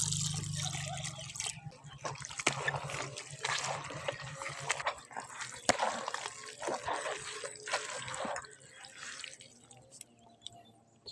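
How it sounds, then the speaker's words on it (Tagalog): Water is poured and trickles into soft organic chicken feed that has fermented for 14 days, a steady wet splashing and dribbling at close range that thins out toward the end. "Lagyan na lang natin yung tubig para mahalo siya."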